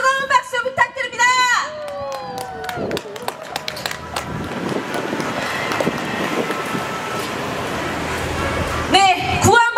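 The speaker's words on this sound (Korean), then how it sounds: "김영사 후보님에게 다시 한번 뜨거운 박수 부탁드립니다" A crowd at a political rally for a candidate bursts into loud, dense applause and cheering that swells and holds for several seconds, with an amplified announcer's voice heard before and after.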